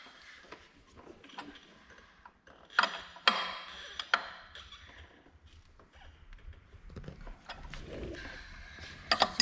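A wrench tightens the bolt on an LS engine alternator mount in a home garage, giving a series of close, uneven ratcheting clicks and metallic clanks with brief pauses between bursts.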